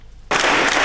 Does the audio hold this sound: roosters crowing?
no